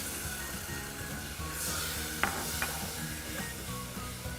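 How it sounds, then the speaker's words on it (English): Butter, sugar, milk and cocoa powder are stirred together in a pot on the stove, giving a continuous soft scraping and bubbling sizzle with a couple of sharp spoon clinks against the pot. "you just want to mix this together until it starts boiling"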